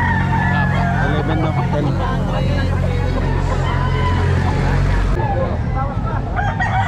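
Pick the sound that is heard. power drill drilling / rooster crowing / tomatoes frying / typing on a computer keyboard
rooster crowing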